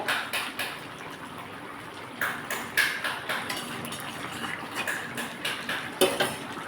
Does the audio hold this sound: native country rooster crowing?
no